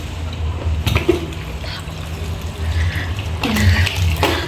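Running tap water while washing up at a sink, a steady close splash and trickle with a few louder gushes and clinks of dishes, no voices.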